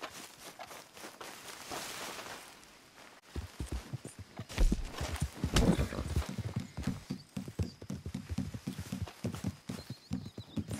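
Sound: horse hooves in Red Dead Online video game

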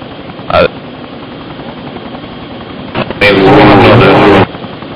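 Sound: helicopter in the video game ArmA 2

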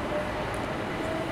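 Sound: Class 375 electric multiple unit train running, Train Sim World 3 video game

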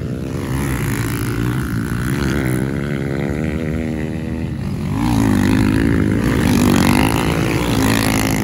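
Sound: 250F dirt bike engine running

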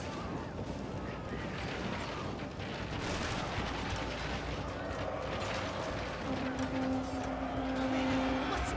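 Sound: ashigaru musket volley fire in video game Shogun 2

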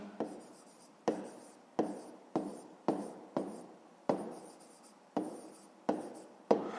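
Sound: pen writing down a math solution

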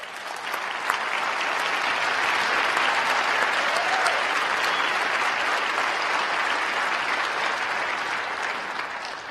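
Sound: audience applause

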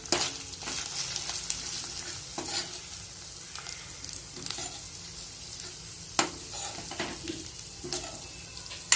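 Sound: onion and pea curry sautéing with spices in pan

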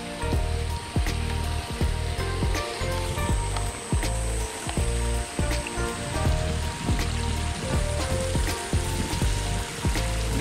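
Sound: rain falling on rice field, getting heavier

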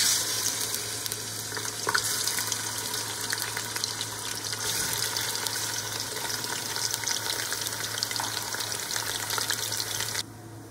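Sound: mutton frying in a pot for nihari

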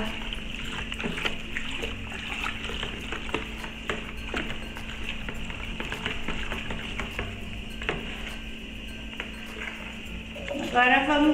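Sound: water poured into homemade disinfectant mixture

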